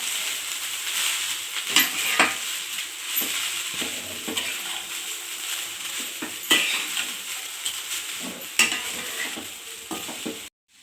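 Fried rice with salt being stirred in a pan: a sustained scraping of the spoon against the pan, broken by several sharper clinks of metal, until it stops abruptly at the end, with no voices.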